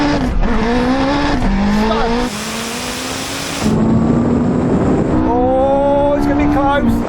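A 1,000hp all-wheel-drive Honda drag races a Porsche 918 Spyder, with loud engines climbing through rising revs and gear shifts, and a roaring surge partway through.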